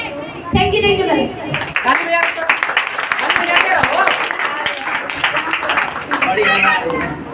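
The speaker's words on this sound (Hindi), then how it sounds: "थैंक यू ताली बजाते" A school drama program audience claps in a dense burst of applause running almost throughout, mixed with children's chatter and a teacher's voice speaking over it.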